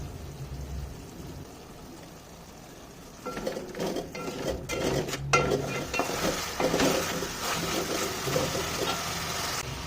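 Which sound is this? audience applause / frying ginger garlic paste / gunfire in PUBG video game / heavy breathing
frying ginger garlic paste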